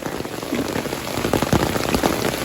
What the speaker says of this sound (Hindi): बहुत तेज बारिश है, बड़ी तेज बिजली कड़क रही है।